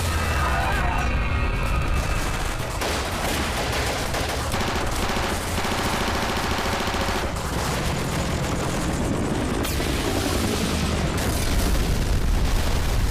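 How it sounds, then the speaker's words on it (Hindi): Dense, continuous weapon fire and booming explosions from a sci-fi battle scene in the film Alien: Romulus, loud and layered, with voices partly buried under the barrage. "उस क्राफ्ट ने तो वेपन फायरिंग शुरू कर दी और हमारे सारे ग्राउंड यूनिट को तबाह कर दिया।"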